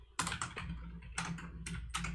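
Computer keyboard typing in short clusters of quick keystrokes separated by brief pauses, near and quiet, no speech.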